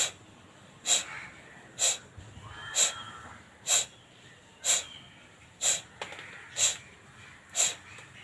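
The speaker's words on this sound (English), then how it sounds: "First round Kapalbhati begins." Kapalbhati yoga breathing: nine forceful, sharp nasal exhalations pushed out at a regular pace of about one per second, close and distinct, with faint quiet breathing between the bursts.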